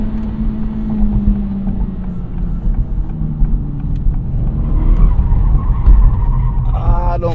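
A 2023 Acura Integra with a six-speed manual gearbox roars under power with engine drone and tire noise, building into a squealing skid near the end as the front-wheel-drive car tries lift-off oversteer.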